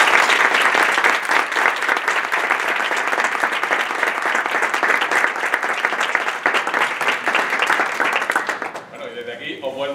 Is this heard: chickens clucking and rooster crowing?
no